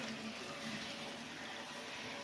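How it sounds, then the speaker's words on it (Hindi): Water from a motor-driven pump pours directly into a tank for a toilet chamber, a steady gushing hiss with a faint low hum underneath, continuous and moderately quiet. "डायरेक्ट मोटर लगा दिया टंकी में ताकि पानी जल्दी से भर जाएगा।"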